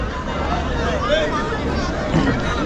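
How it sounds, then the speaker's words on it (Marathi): A busy crowd of bus travellers gathered at a roadside meal stop on a cold night, a steady murmur of many overlapping voices and chatter filling the air, with a nearby voice occasionally rising above the babble. "इकडे जेवणासाठी गर्दी पण आहे"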